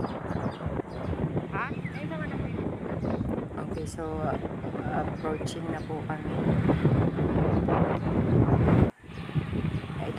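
Wind blows hard against the microphone on Lubang, Occidental Mindoro, with a constant rushing rumble while a person talks over it.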